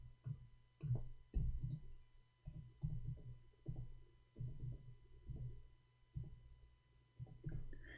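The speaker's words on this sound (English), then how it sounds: "I'm typing in English" Someone types on a keyboard in quiet, irregular bursts of soft taps that come close together, then pause, with no talking.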